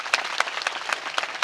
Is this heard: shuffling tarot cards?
no